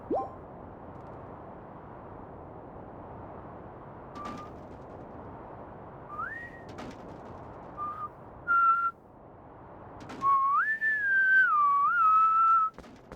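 A person whistles a few short high notes, then a brief wavering tune, fairly close but soft, over a quiet background hiss.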